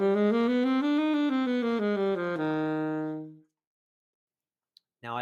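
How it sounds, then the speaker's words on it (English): Major bebop scale with an added half step between the fifth and sixth degrees, played as a quick run of clear single tones rising then falling, each note distinct, fading out before a brief breath-like sound at the end. "the first bebop scale that I think you should practice is the one built off the major scale that puts a half step in between scale degrees 5 and 6"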